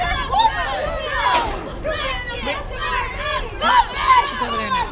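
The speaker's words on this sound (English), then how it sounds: "I like the cheerleaders still cheering in the background." Crowd noise at a football game, with cheerleaders chanting and cheering in the background under steady chatter from nearby spectators.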